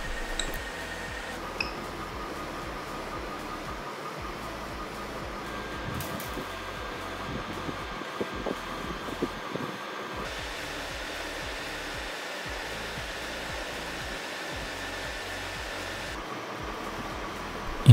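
An Ender 3 Max 3D printer works through a calibration cube, giving a steady mechanical whir with stepper-motor buzzing and small shifts in pitch as it moves, plus a continuous fan hum underneath, close and moderately loud.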